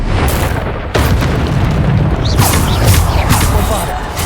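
Bombarda blasting spell in Hogwarts Legacy, a sharp booming explosion with a crackling burst and rumbling tail over constant dense game noise.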